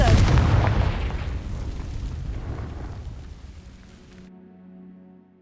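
A Confringo fire spell in Hogwarts Legacy, cast at dry vines: a loud, close, crackling blast that rumbles and slowly fades over several seconds, ending in quiet game ambience.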